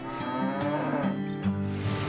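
Cattle moo loudly and nearby, several low drawn-out bellows overlapping across two seconds with no other sounds.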